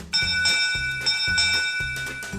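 A bright, close bell ding rings out repeatedly over a low rhythmic backing beat, used as a notification chime for a subscribe bell icon.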